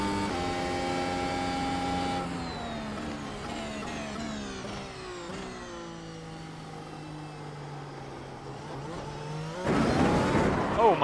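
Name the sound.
NASCAR race car driving on Indianapolis track in racing video game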